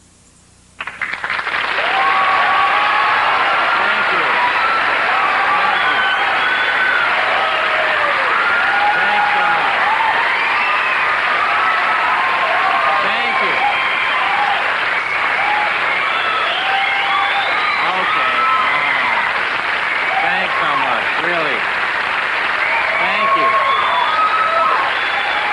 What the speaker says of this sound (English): You don't want to applaud that much, really.